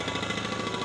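A jackhammer breaking asphalt pounds rapidly and steadily, a harsh mechanical rattle at moderate distance, with no speech over it.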